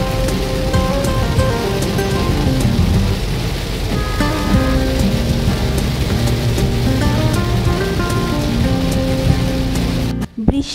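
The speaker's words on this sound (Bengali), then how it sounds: "বৃষ্টি আর বৃষ্টি।" Heavy rain falls during a road trip from Bandarban to Dhaka, a dense steady wash of drumming drops over a low rumbling hum, continuous and loud until a sudden cut at the very end.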